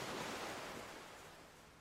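Ocean waves washing in softly, a faint hushing surf that swells at the start and slowly fades away, heard alone without any voices.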